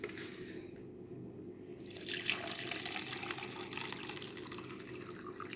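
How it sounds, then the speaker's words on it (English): Water poured into a container holding three spoonfuls of sand, a soft continuous splashing and trickling that swells after a quiet start and runs steadily to the end, close and fairly faint with no talking. "I am going to add water to the container"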